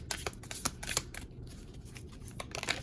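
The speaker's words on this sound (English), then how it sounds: "then we'll shuffle for pile number 5 now" Tarot cards are shuffled by hand close up, giving quiet, rapid riffling and slapping bursts with brief pauses between them.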